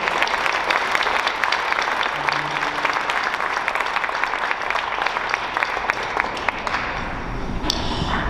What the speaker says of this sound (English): can we just give a round of applause to all the ladies in our community who managed to get these done in a couple of weeks.